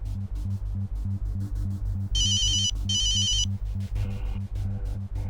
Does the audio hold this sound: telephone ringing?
yes